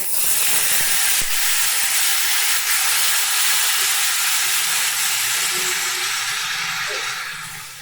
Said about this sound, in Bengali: এইবার এই সময়টাতেই আমি দেখো পরিমাণ মতো জল দিয়ে দেবো